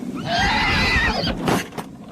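An old milkman's nag, a three-legged horse, gives a long, loud, wavering whinny lasting over a second, followed by a couple of short snorts or bumps.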